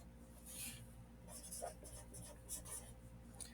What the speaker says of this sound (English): I'm not going to write the whole thing out, but I'm going to take a sentence strip and do that